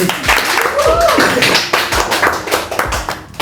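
Audience clapping at a youth talk event about police academy cadet life, a quick rhythmic patter of hands mixed with voices and loud crowd noise close by.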